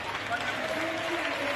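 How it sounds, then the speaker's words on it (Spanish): Applause from parliament members celebrating reaching the quorum, a steady wash of clapping heard at a distance and slightly muffled, with no voices above it. "Acá está cuando aplauden celebrando esto del quórum."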